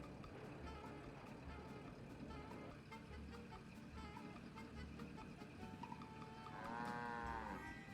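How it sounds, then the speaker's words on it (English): Cattle moo repeatedly over a busy soundtrack with music and background effects in the video game Nancy Drew: Secret of the Old Clock, one long low moo rising near the end. "I hear the cows."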